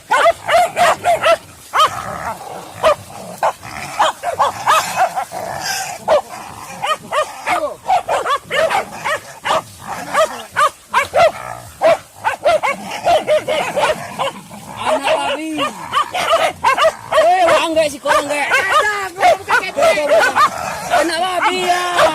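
Dogs bark repeatedly in short bursts amid constant chatter, with voices talking over and between the barks throughout.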